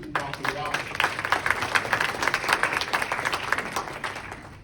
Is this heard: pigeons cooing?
no